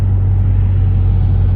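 A big truck engine rumbles beside a car on a busy highway, heard from inside the car as a loud, steady, deep drone with no talking.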